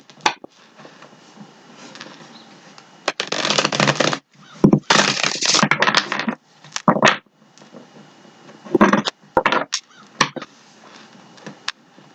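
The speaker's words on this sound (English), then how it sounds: "Let me give him a shuffle." Tarot cards shuffled by hand during a love reading, in several loud bursts of rapid riffling and crackling with quieter pauses between them, close to the listener and with no talk over them.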